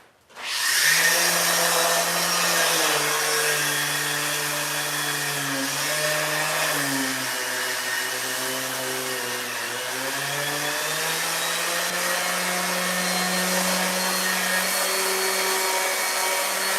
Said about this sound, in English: That's another sander.